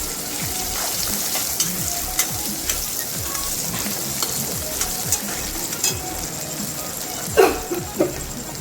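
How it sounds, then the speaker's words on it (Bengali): Chopped onion and green chilies fry with ginger and garlic in a pan for dal tadka, making a loud, continuous sizzle broken by repeated spatula scrapes and stirring taps. "এরপর দিয়ে কুচিয়ে রাখা পেঁয়াজ আর কাঁচা লঙ্কা, এগুলো খুব ভালো মতো করে ভেজে নিচ্ছি"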